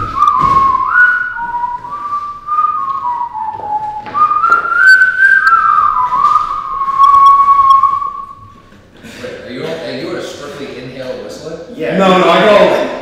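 Shrill whistle tones glide and sustain for several seconds, then give way to breathy noise and voices talking nearby.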